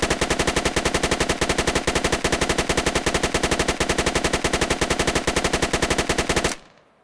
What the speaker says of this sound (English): This is the standard machine gun that will be able to be used on the insurgency side.